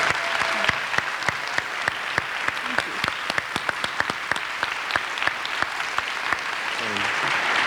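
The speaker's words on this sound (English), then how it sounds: "Could we just get another round of applause for Ms. Geller, please?" An audience at a talk by a Holocaust survivor applauds with a steady patter of individual claps that carries on evenly for several seconds, with no voices over it.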